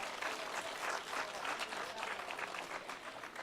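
Continuous audience applause in a hall after a speech, steady and moderately loud throughout without a break.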